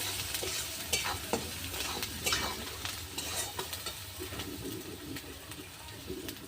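Spice masala with chili powder and sugar being stirred and fried in a pan for egg do pyaza, a soft, even sizzle with frequent spatula scrapes and taps, fairly quiet throughout.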